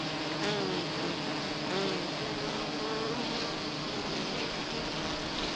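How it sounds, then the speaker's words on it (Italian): Honeybees, hive cleaners removing pupae infested with varroa mites, hum in a dense, continuous buzz close by, steady throughout with no talk. "Guardate come queste api tendono a tirare fuori"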